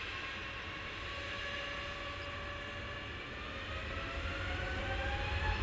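A jet airliner departs Luton Airport, a broad distant engine roar with slowly shifting whining tones that swells gradually over several seconds, faint and continuous with no talking.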